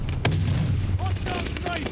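Grenade blast in a first-person shooter game, a loud booming burst that starts the clip and rumbles low, followed by more in-game gunfire and explosion noise with a brief voice under the action.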